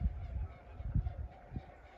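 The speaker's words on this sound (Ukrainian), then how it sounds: "а он гуси полетіли, вон вверху" Geese honk faintly overhead, a few scattered calls over low rumbling wind noise.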